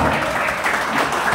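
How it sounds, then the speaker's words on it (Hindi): A crowd at a cricket league presentation event gives Shailesh Malviya a loud, dense round of applause that is steady and sustained throughout. "तालियां शैलेश का"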